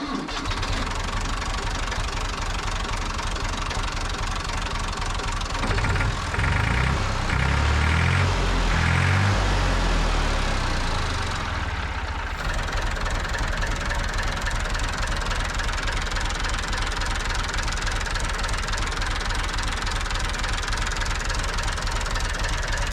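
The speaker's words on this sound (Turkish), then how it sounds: "Traktörümüze ilk marşımızı basacağız. inşallah çalışır." A Massey Ferguson 240S tractor's diesel engine cranks, catches and settles into a steady knocking idle, loud and close, with a rougher, louder surge midway before the even idle returns.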